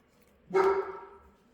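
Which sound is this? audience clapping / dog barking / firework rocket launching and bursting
dog barking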